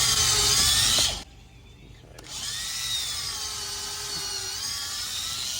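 A drill whines loudly for a second, pauses, then runs again at a steady, slightly lower pitch as it bores a pilot hole into wood.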